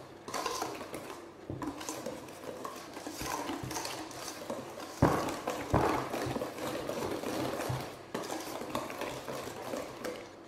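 A utensil scrapes and clinks against a bowl while the last portion of flour is worked into yogurt cake batter, steady irregular stirring at close range, soft and alone without talk.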